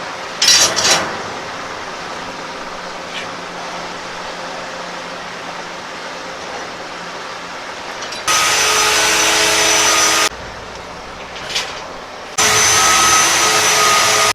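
A power drill bores holes into a boat hatch, its steady whine starting, stopping and restarting in long loud stretches over a low background hum, with no talking.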